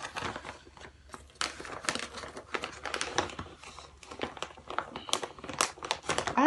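A wig package is opened for an unboxing: dense, steady crinkling and rustling of plastic and paper, close up and continuous, with sharper tearing crackles near the end.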